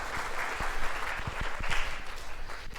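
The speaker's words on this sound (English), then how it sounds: "Please welcome Dr. Yanik with big applause." Audience applause welcoming Dr. Yanik to a tinyML Asia 2023 conference session on mmWave radar, a steady wash of many hands clapping with a few louder claps standing out, filling the whole moment without speech.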